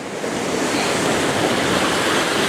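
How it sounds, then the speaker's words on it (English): Big sea waves roar and break on coastal rocks, a continuous loud wash of surf with wind noise across the microphone and no voices. "Those nice big wave breaks on the rocks there."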